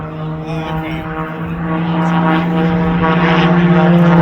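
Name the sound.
propeller aerobatic airplane engine during air show torque roll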